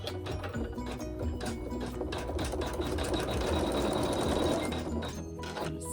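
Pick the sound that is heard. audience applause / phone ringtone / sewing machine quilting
sewing machine quilting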